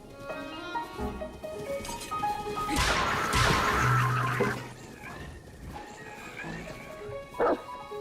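A dog barks and yips in a Nintendo Switch reveal trailer, a burst of sharp barks mid-clip over background music and game sounds, with a brief loud hit near the end.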